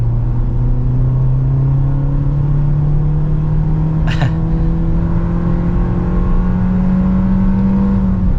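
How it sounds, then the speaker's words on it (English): A 2022 Nissan Kicks engine drones as the gas pedal is floored in sport mode on the highway, a steady low hum slowly climbing in pitch under road noise, with one brief click partway through. "this is me flooring the gas pedal. Very slow, but that's expected from a small engine"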